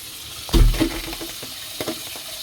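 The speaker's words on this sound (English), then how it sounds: "I'm gonna put cold water on it." Cold tap water splashes over cooked saltfish in a kitchen, a sudden gush and spatter followed by lighter trickling and small splashes as it settles.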